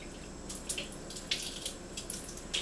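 Small amounts of water, a tablespoon at a time, poured into thick banana pancake batter in a kitchen, giving faint intermittent splashes and trickles close by with no talking.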